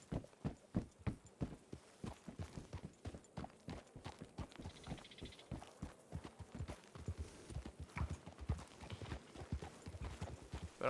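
Horse hooves trotting in the Red Dead roleplay video game, a steady clip-clop rhythm close by with a faint background hum.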